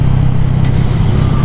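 A Yamaha MX King 150 motorcycle engine idling, a steady, loud, low mechanical drone close by with no talking over it.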